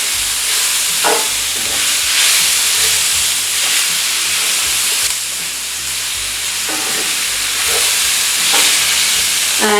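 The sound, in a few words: merguez sausage sautéing in a pan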